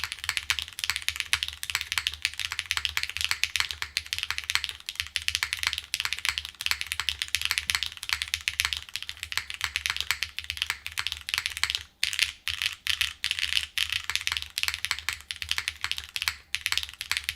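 Steady, dense clatter of typing on a Mode SixtyFive mechanical keyboard build with no foam inside, keystrokes close and continuous with a brief pause near the end, no voices.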